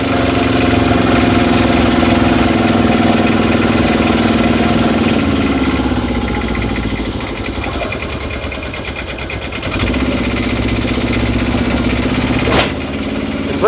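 Small engine of an Aixam Mega Van with a CVT transmission, a loud steady buzzing drone that dips in pitch and level midway, then rises again with a brief rattle near the end, no talking.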